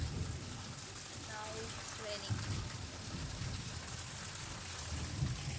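Rain falls steadily during a Rath Yatra festival in Cuttack, a soft, constant hiss at a distance, with a few faint voices and a brief high tone in the background.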